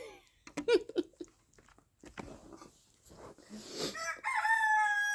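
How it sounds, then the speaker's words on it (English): Roosters crowing outside, with a few clucks and scattered scratchy noises building to one loud, drawn-out crow near the end, fairly close. "Now I just have like a bunch of baby hens and a bunch of roosters."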